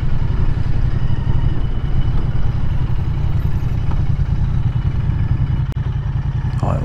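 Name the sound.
Royal Enfield motorcycle engine idling in neutral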